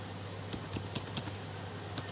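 Computer keyboard typing of code, heard as a few sparse, separate keystrokes in a quiet room with a steady low hum underneath.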